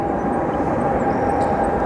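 An Airbus A330 jet at O'Hare International Airport gives off a steady, fairly loud engine roar with a constant whining tone, holding even throughout without speech.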